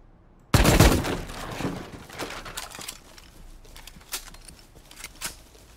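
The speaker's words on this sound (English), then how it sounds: "I'm gonna shoot. Don't be alarmed." Gunfire in the survival game Rust: a loud sharp shot or burst opens the moment, then scattered fainter shots and impacts follow at irregular intervals over a low background.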